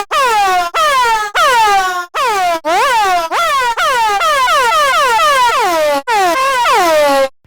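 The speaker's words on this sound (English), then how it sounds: "now we're gonna have a sweepy sound that's gonna modulate our tune" A Kontakt sampler plays a filtered synth sound whose pitch sweeps downward on each note, a run of loud, close, horn-like tones with short gaps between them and no talking.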